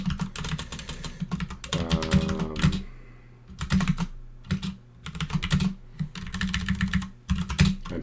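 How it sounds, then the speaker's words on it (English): Fast, continuous typing on a computer keyboard, close and clear, with clattering key bursts and short pauses between them. "I'm typing it in chat now"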